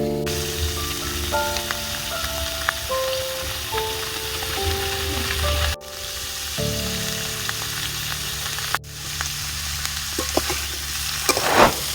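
Chopped onion stalks (peyajkoli) frying and being stirred in a pan with salt and turmeric, a steady close sizzle running throughout with occasional utensil scrapes and two brief dips in the noise.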